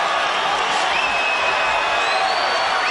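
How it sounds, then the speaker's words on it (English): A boxing arena crowd rises and cheers for Roy Jones, a dense, loud roar of voices with whoops and whistles that stays steady from start to finish. "the crowd stands and cheers Roy Jones"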